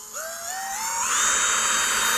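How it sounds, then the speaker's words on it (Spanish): A variable-speed electric drill spins up alone, its whine climbing in pitch as the speed is raised in steps and then holding steady at a high, loud, continuous tone. "una herramienta como esta, un taladro de velocidad regulable, que si escuchan puede hacer que vaya como muy lento o subirle la velocidad"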